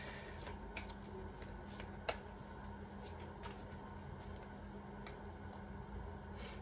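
Tarot cards being shuffled by hand, a faint, soft riffling and flicking with a few sharper snaps, heard alone against a quiet room hum.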